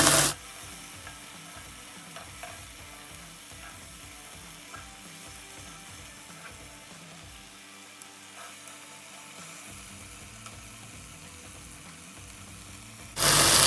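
Mutton tikka boti sizzles and crackles steadily on a hot pan, with scraping and clicking as the pieces are turned, close and continuous with no talking.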